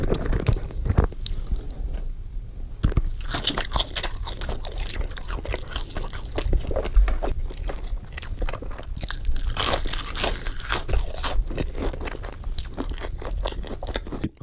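Close, crisp bites and wet chewing of fast food with cheese, spread and Cajun fries, a steady stream of crunches and smacking mouth sounds, loud and intimate with no talking.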